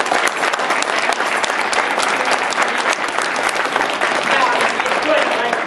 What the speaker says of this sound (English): Big round of applause for my helpers.